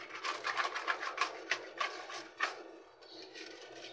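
Pigeons in a coop, with soft cooing and wing flutters close by plus small rustling movements, steady and moderate with no talking.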